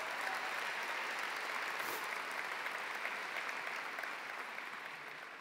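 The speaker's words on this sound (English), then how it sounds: "Let's give her a round of applause," A large audience at a high school graduation ceremony applauds in a steady, dense wash of clapping that tapers slightly toward the end, heard from a distance with no talk over it.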